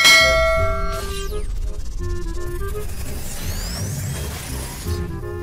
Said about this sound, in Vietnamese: Nhớ đăng ký và bấm chuông nha.